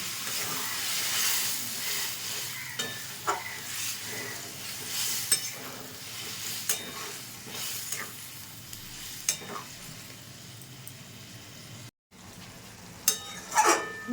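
Potatoes cook in added hot water for an egg omelette curry, giving a steady close hiss and bubbling with occasional clinks of a stirring spoon, with no talking.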